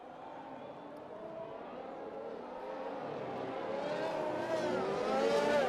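Race cars in a Netherlands round of a racing series pass by at speed, a steady engine roar that builds and rises in pitch toward the end as the cars draw nearer.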